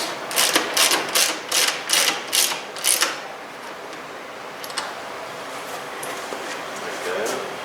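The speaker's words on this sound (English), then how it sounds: "You just want to kind of snug them down until you feel the bolt just through the nylock nut." A ratchet turns bolts down onto nylock nuts while fenders are mounted on a Honda Talon X side-by-side, giving a quick run of about eight sharp, close clicks in the first few seconds, then quieter handling.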